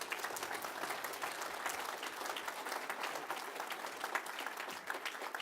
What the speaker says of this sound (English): how about a round of applause posthumously for Mr. Dean Batchelor?